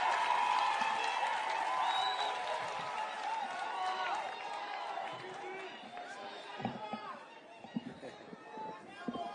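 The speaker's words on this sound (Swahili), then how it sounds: "Makofi tena." A large crowd applauds at an outdoor political rally for Kenya's president in Gilgil, Nakuru County, with dense, sustained clapping and cheering mixed with crowd chatter, thinning somewhat toward the end with a few louder scattered claps.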